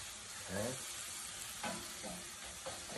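Food sizzles in caramel sauce in a hot pan, a soft, steady frying hiss with occasional faint stirring scrapes.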